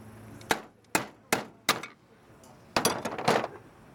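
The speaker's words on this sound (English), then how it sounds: "take a screwdriver, and gently tap the old shaft seal out" Screwdriver tapping an old shaft seal out of an upturned Polaris booster pump bracket: four sharp metallic clinks about every 0.4 seconds, a pause, then a quicker cluster of taps, close and moderately loud.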